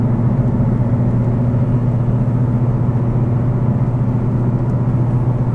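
A 2020 Chevrolet Camaro 1SS 1LE with Track Performance Package cruises in fifth gear at about fifty miles an hour, giving a steady, low engine drone and road rumble heard from inside the cabin throughout.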